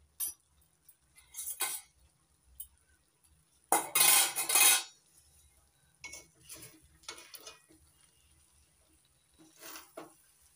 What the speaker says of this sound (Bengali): এবার নাড়াচাড়া করে মিশিয়ে নেব।